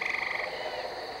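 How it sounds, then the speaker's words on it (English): A tree frog croaks in a short rapid pulsing trill, close and clear, fading out after a moment. "that's a tree frog croaking"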